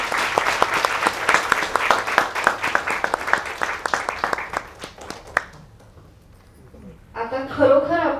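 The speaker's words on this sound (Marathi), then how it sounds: "पुन्हा एकदा जोरदार टाळ्या." Audience at a women's event claps loudly for several seconds in dense, continuous applause that fades out, followed by someone speaking into a microphone.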